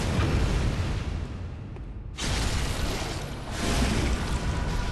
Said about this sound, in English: that explosion was one time because it was only that loud because they blew up the little explosive pots that were around that area